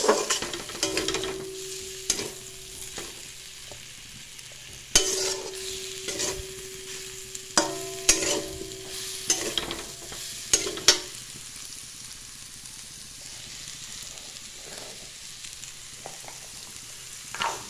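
Vegetables with onion stir-frying in a pan for a home lunch: a soft continuous sizzle broken by irregular spatula scrapes and clanks against the pan, close and without voices.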